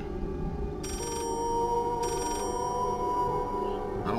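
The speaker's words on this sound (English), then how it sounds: "I hear another phone over here." An old-style telephone bell rings in the horror game Layers of Fear, two loud trilling bursts about a second apart over a steady eerie tonal drone.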